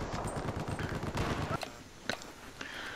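Gunfire in Battlefield 4 on PS4: a dense burst of rapid shots, then a few separate sharp cracks spaced apart, including sniper rifle fire.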